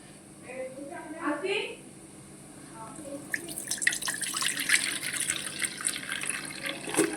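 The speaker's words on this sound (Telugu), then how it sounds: "హాఫ్ అన్ అవర్ ముందు నానబెట్టిన పప్పు ఉంది కదండి, దాంట్లో ఉన్న వాటర్ అంతా తీసేస్తున్నాను" Water is drained off soaked moong dal, splashing and trickling close by for several seconds after a brief stretch of talking at the start.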